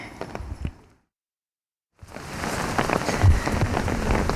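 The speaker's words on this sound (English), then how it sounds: "The rain just keeps coming down." Rain pours steadily on a beach during a world championship event, a dense hiss of drops that starts abruptly after a short silence and holds loud and constant, with a few brief bursts of sound before the gap.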